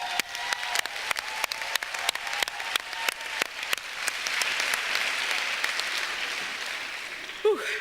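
Conference audience clapping in a large meeting room, separate sharp claps at first that thicken into steady applause, moderately loud, with a brief voice near the end.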